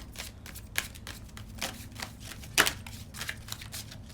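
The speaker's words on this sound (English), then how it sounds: "Not ready to take the jumpers out of this one yet. I haven't shuffled enough." A deck of oracle cards is shuffled by hand in quick, uneven bursts of riffling and flicking, with one sharper snap partway through, fairly close and quiet with no talking.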